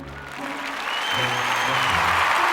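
Applause builds from a few claps into a steady wash of clapping from a crowd, with some tonal background sound underneath.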